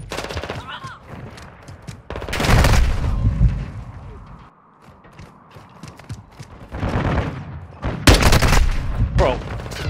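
Automatic gunfire in Call of Duty Modern Warfare 2 bursts out in loud clusters with mechanical clatter between them, and a voice speaks over part of it.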